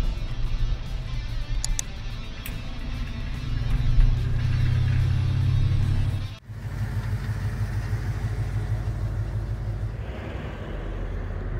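A Ford F350 pickup truck's engine hums while driving toward a truck scale, a steady low rumble that swells, drops off abruptly for a moment, then settles back into an even cruise.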